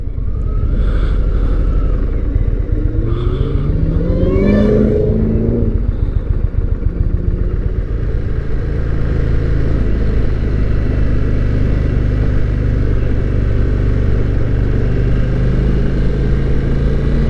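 An Indian motorcycle accelerating on a freeway during a demo-day test ride, its engine rumbling loud and close with a rising rev early on, then a steady roar mixed with heavy wind rush.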